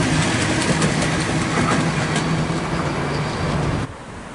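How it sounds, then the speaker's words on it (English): A Sydney Oscar commuter train runs through a suburban station platform at Thornleigh, a loud rolling rumble with rail clatter that holds steady, then drops off abruptly near the end. "We have an Oscar passing platform number 3."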